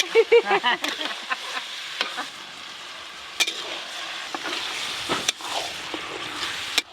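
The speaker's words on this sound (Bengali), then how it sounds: "আদা রসুন পেঁয়াজ ভালো করে ভাজা ভাজা করে নিয়েছি" Steady sizzling of ginger, garlic and onion frying in a pan, with scraping and stirring clicks throughout, no one speaking.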